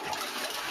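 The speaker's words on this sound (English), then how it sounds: "What happens when you flush the toilet?" A household toilet flushing nearby, a steady broadband rush of water lasting under a second with no voices, while a dog hovers at the bowl.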